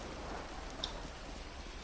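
Steady rain in the video game GTA 5 hisses as a dense, even wash of falling drops with a brief faint tick, no voices over it.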